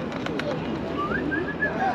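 Soft pigeon coos drift in the background, a few gentle repeated calls heard faintly amid outdoor ambience and nearby voices in Tbilisi, Georgia.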